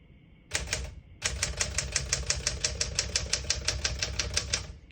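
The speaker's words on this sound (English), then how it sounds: "As you can see, all the keys type nice and none of them skip or stick." Typing on a 1965 Smith-Corona Sterling portable typewriter: a short burst of clacks, a pause, then a steady, even run of crisp, close keystrikes.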